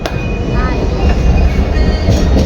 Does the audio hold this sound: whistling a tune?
no